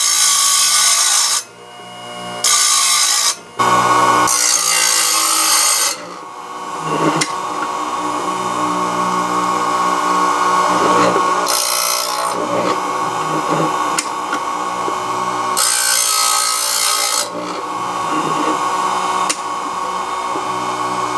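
A Chicago Electric circular saw blade sharpener from Harbor Freight grinds across saw blade teeth in loud, harsh bursts that start and stop, with a steady motor whine running between the grinding passes.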